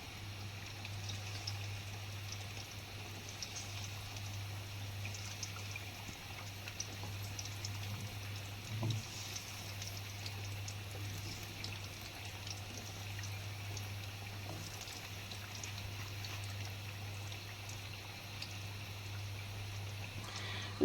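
Chicken nuggets fry in oil over low heat, giving a steady, even sizzling hiss that continues throughout over a low, constant hum, with no talking.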